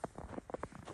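Horse hooves clip-clop along a lightly snow-covered street in Munich, a steady rhythm of several close, moderately loud hoofbeats within a single second.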